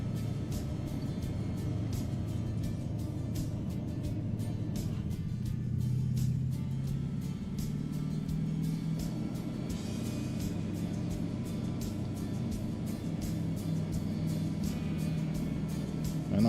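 A Scania R620 V8 truck engine in American Truck Simulator revving, a continuous low rumbling drone that climbs gradually in pitch, faint and steady, with no voices.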